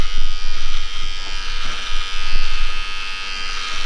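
A Finisher hair clipper trims a beard close up, its loud electric buzz pulsing unevenly as the blade moves through the hair in short passes, with no talk.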